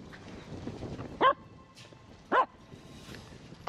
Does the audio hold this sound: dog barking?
yes